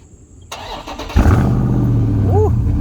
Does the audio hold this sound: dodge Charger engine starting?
yes